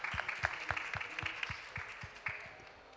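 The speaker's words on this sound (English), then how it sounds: "A big round of applause, please," A small audience at an agriculture and food security event claps for the Governor, sparse close claps in a loose rhythm that thin out and fade within a few seconds.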